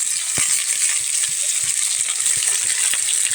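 Potatoes with salt and turmeric powder fry in a pan, giving a steady close-up sizzle with small scattered ticks and pops of stirring throughout.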